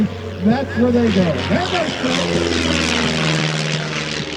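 A Vans RV Rocket 6 aircraft makes a steady propeller-engine drone as it passes at an airshow in Madison, Indiana. A commentator talks loudly over the engine throughout.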